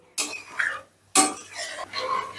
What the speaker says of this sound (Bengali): মশলাটা জলের সাথে বেশ ভালো করে মিশিয়ে দিলাম